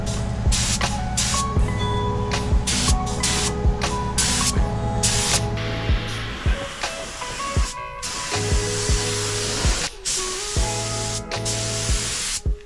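Spray gun hissing steadily as it lays color-changing chameleon paint, first black coat of Rust-Oleum metallic, with repeated short bursts and pauses over a constant background hum, close and fairly loud.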